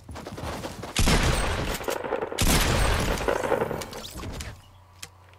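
Gunfire rattles in the Fortnite video game: two long, loud, dense bursts of rapid shots close together, then the firing fades and ends with one last sharp crack.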